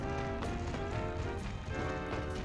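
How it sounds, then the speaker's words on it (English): Character footsteps in the video game Pokemon Legends: Z-A, a quick run of hollow clip-clop steps over a dense, steady bed of game music and ambience. "can you hear the footsteps when he walks?"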